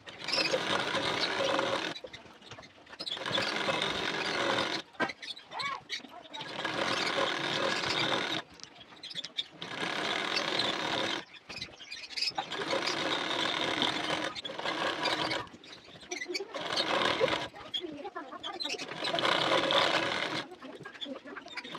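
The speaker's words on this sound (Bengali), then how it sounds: "এখন সাইড বরাবর সেলাই দিয়ে নেব" A sewing machine stitches the side seam of a nighty in bursts of rapid, steady mechanical chatter, about six runs of two to three seconds each separated by short pauses, close and clear with no talking.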